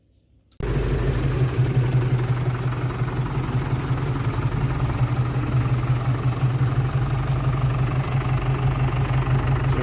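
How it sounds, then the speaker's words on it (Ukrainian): A FARMER-10286 tractor engine, with its wheels removed, starts abruptly after a brief silence, then idles steadily with a deep, throbbing rumble and constant vibration. "Цей трактор повинен працювати і без колес."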